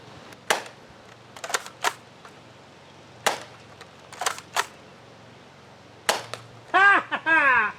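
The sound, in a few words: K26 finisher gunshots in a video game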